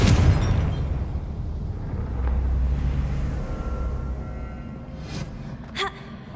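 Confringo fire-blast spell explosions in the video game Hogwarts Legacy, a loud booming blast that rumbles and fades, followed by a couple of brief sharp impacts.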